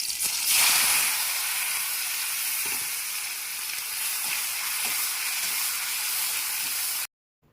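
Chopped onions frying in hot oil with melted caramelised sugar, a loud, steady close sizzle and hiss with occasional stirring scrapes, ending abruptly.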